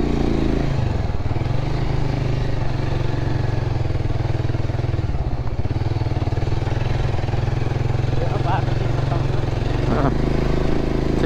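A motorcycle carries two riders uphill in second gear, its engine giving a steady, loud, continuous drone that holds level throughout with no pauses.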